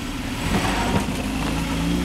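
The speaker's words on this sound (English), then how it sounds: "You can hear rear end making a lot of noise." Toyota truck driving off-road on hills, with steady engine drone and rumbling drivetrain noise from the rear end, close and continuous without speech.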